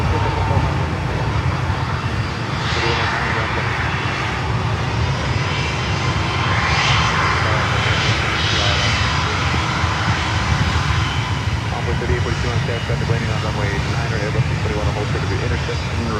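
An American Airlines airliner takes off at Miami airport, its jet engine roar a steady, broad rumble that holds for the whole stretch, with people talking over it.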